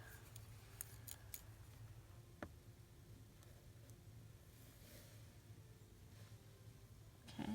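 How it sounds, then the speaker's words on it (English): Scissors cutting paper for junk journal embellishments, faint quiet snips and small ticks scattered through a soft background hiss. "I'm going to go ahead and try and cut right on that line because I want this to fit"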